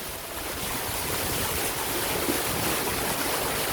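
A dense, continuous rush of floodwater flowing over a road in Suriname, with ditches overflowing, fills the scene, loud and steady like a broad flow, with wind buffeting the microphone.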